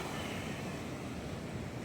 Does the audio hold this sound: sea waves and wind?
yes